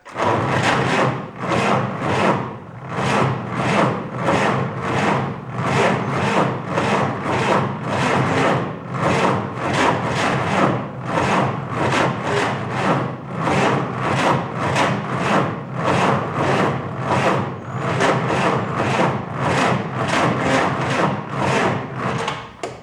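The engine of a 1949 Willys pickup cranks over and over without catching, a long run of rhythmic, raspy starter strokes at an even pace, loud and close, with no voices.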